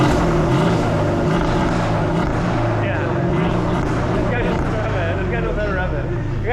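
A Mercedes CLS550 with a resonator delete and X-pipe exhaust rumbles nearby with a low, throaty engine drone and some rising pulls, while people talk over it throughout.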